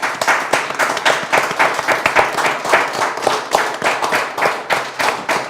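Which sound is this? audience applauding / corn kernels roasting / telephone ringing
audience applauding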